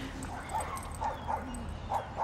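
Dog yips and short barks at a city dog park, five brief bursts spaced through the clip over a steady low outdoor rumble, moderately near.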